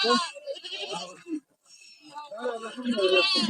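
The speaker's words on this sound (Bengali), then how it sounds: "এই যে এখানে অনেক ছোট ছোট ছাগল রয়েছে" Small goats of mixed breeds and colours at the Ashulia cattle market bleat several times in quick, wavering cries, close and loud, overlapping with people talking nearby.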